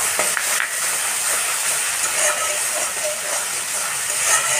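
Chopped green chillies go into a hot pan of cauliflower masala, and a loud, steady sizzle and hiss fills the kitchen, close to the mic with no speech.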